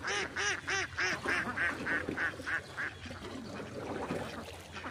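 Ducks quack near a small boat in a rapid run of loud, close, evenly spaced calls that then give way to softer, mixed quacking over a background hum.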